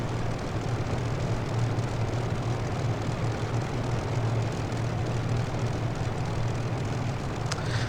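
P-51D Mustang engine in MSFS 2020, a steady, loud, throbbing piston drone with a deep low hum, running continuously without change.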